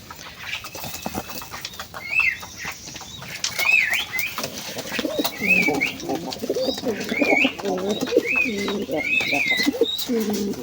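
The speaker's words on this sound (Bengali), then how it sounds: "কিং কবুতর ভালোভাবে উড়তে পারে না সেই জন্য এখানে আসতে গিয়ে এখানে চলে এসছে" A king pigeon coos in low repeated rounds, with higher bird calls chirping above and some wing flapping, fairly close and continuous throughout.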